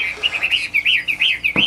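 A Chinese hwamei (họa mi) songbird sings a lively run of looping, whistled phrases, close and clear, with a brief louder burst near the end.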